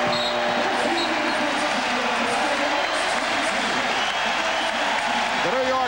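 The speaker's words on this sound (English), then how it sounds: "The New York Knicks hearing the applause from the crowd." Dense, sustained crowd applause and cheering fill a basketball arena during a 1994 NBA playoff game between the Knicks and Bulls, loud and continuous with faint voices mixed in.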